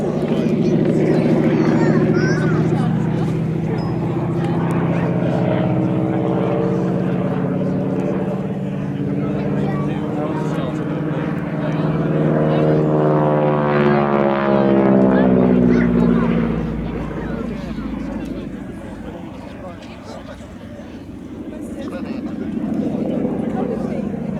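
A T6 Texan (Harvard) propeller trainer flies past at an airshow, its engine drone rising and falling as it passes, with a commentator talking over the sound throughout.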